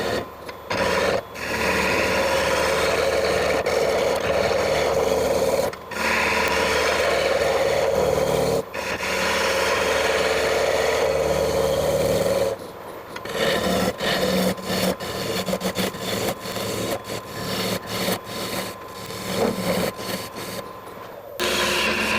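A wood lathe turns a segmented, insulated coffee mug blank, rounding off a flat spot: a steady, loud scraping hiss of cutting, with brief pauses as the tool lifts and choppier cuts toward the end.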